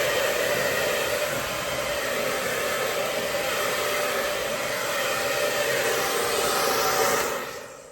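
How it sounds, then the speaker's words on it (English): CONFU ionic salon hair dryer on its cold setting gives a loud, steady airy whoosh with a whine, running alone without talk before cutting off at the end. "this is really great hair dryer, so powerful, has two speeds, two different temperature level and cold as well"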